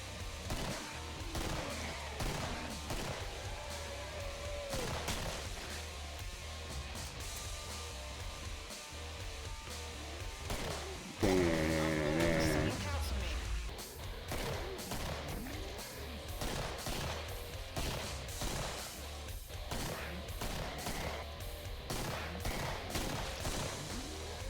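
Gunfire in the video game Killing Floor crackles in rapid, continuous volleys over a dense game soundscape, with a brief louder burst midway.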